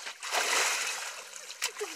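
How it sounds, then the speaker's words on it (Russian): Water splashing and sloshing as people plunge into icy water in a Kolyada winter festival tradition, one broad splash followed by smaller splatters, with voices around. "проверка на прочность погружения в ледяную воду"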